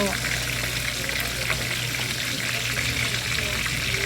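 Yellowfin tuna pieces frying in a hot pan until golden brown: a steady, close, unbroken sizzle and crackle that runs the whole time with no talking.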